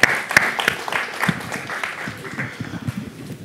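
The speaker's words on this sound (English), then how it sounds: "Give them a cheer, guys. Come on." Audience applause at a talk on designing human-centered products, a burst of clapping with sharp individual claps that thins out over a few seconds, with voices underneath.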